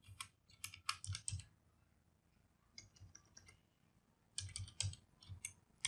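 Close typing on a computer keyboard while writing CSS code, quick bursts of clicky keystrokes separated by short pauses.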